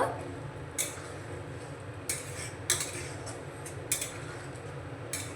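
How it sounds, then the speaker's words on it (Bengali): Fried spinach being stirred into simmering gravy in a pan, with intermittent scraping clinks of a spoon against the metal at irregular intervals over a low steady bubbling background. "এই সময় আমি দিয়ে দেব আগে থেকে ভেজে রাখা পালং শাক নাড়িয়ে মিশিয়ে নেব"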